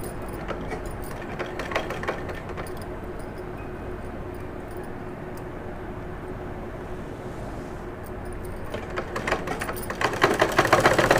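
Sewing machine stitching the sleeve pieces of a baby frock from poplin fabric, a steady close whirring run that continues throughout and grows louder and busier toward the end.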